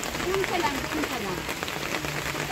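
Heavy rain falls steadily in a continuous close wash, with a voice briefly speaking over it.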